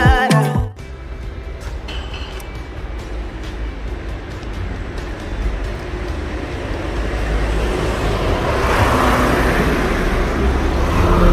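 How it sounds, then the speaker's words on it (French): Cars pass along a busy street outside a building under renovation, a constant roadway rumble that swells louder toward the end as a vehicle nears, with brief clatter at the start. "C'est une rue très passante, donc il y a des voitures qui passent beaucoup."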